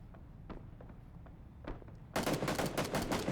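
PUBG gunfire in a competitive match, soft scattered shots at first, then a dense, loud burst of rapid automatic fire that runs to the end.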